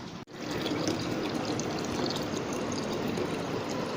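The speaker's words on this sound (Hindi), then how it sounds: "यहाँ मैं कूलर से पानी की बोतल भर के रखने लगी हूँ" Water from a water cooler pours steadily into a bottle. After a brief click at the start, the stream gives a continuous, close, even rush that fills the rest of the clip.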